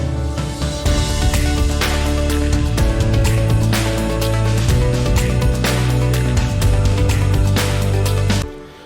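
Full, punchy rock drums with layered hits drive along steadily under a dense band mix, loud and close, before cutting off abruptly.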